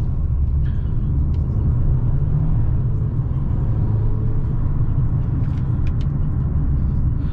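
Road and engine noise inside a 2020 Mercedes GLA SUV while driving: a steady low rumble with faint tyre hiss, continuous and even throughout, no one talking.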